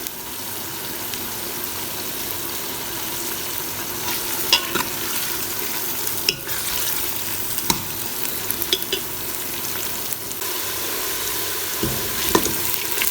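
Steady sizzling of garlic and ginger paste frying in a pan, with occasional scrapes and clinks of a utensil stirring, close and moderately quiet throughout.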